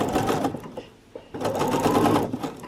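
A sewing machine stitches binding onto trouser fabric, a steady close whirring run that pauses briefly mid-way before resuming at full pace.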